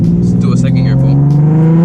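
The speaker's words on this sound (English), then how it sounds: "Let's do a second gear pull." Nissan 370Z engine pulling hard in second gear, a loud, steady rising drone heard from inside the car, with a voice speaking over it.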